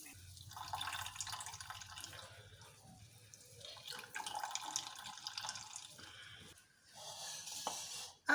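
Grated cucumber is squeezed by hand to press out its excess water, giving wet squelching and trickling sounds in uneven bursts, close up in a kitchen, with a brief pause before a final louder squeeze.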